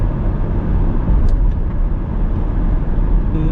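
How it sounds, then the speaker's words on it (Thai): A BMW X5 F15 3.0d M Sport diesel engine is pulled at full throttle toward 4,000 rpm, a loud, steady low-frequency drone heard from inside the cabin, with continuous road and engine roar throughout. "อันนี้ผมเหยียบเต็มนะ โอ้ สี่พันรอบแล้วนะครับ เป็นรถที่ขับมันมากนะครับ"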